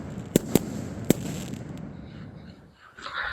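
Half-price fireworks go off at a party: three sharp, loud cracking bangs in quick succession over a rumbling background, followed by fainter crackle and voices in the distance.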